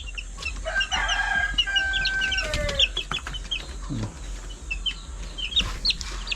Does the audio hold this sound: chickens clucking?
yes